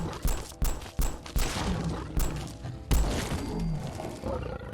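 In the Fallout 4 video game, an SKS rifle fires about eight sharp, loud shots at an uneven pace while a Deathclaw lets out deep, growling roars between and after them.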